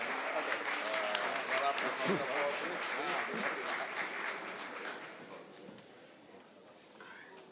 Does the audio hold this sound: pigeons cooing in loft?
no